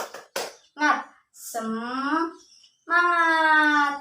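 Children in a sixth-grade classroom perform the rhythmic 'tepuk semangat' clap. A few quick claps open the routine, then the children chant together in loud, sustained voices.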